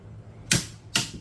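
A Dongcheng DCPB488 cordless brushless impact wrench gives two sharp, crisp clicks about half a second apart at its 500 Nm torque setting, fairly quiet against a low background hum.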